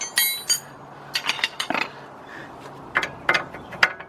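A metal wrench clinks and clatters against tools and parts during front coil spring work on a 1999 Ford Expedition, a series of sharp, irregular metallic taps heard close by.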